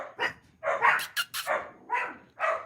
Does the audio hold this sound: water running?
no